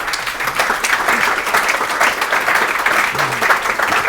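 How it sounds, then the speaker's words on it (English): Audience applause at a panel discussion on technology and society, a dense, steady round of clapping from a sizeable crowd lasting the full few seconds with no voices. "Maybe that's worth a short applause."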